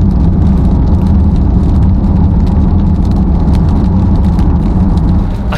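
Audi RS6 engine pulls hard under load while towing, a loud steady roar with continuous low rumble and road noise, close and unbroken with no voices.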